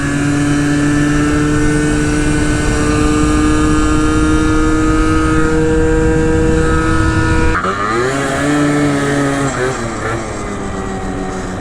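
Scooter engines drone steadily in a group ride along bike trails, a loud, close, continuous hum with the pitch dropping and shifting near the end as the riders pass.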